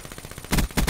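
Hip-fired guns in a shooter video game rattle off in quick bursts, faint rapid shots at first and then two louder, close volleys of automatic gunfire.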